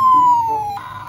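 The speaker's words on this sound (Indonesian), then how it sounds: "Ini seperti suara sirine ada tembakan juga," A loud electronic siren wail from a toy Ultraman sword slides slowly downward in pitch, then jumps to a new tone near the end.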